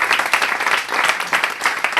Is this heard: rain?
no